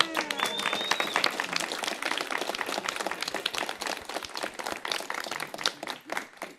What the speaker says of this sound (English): let's just give another round of applause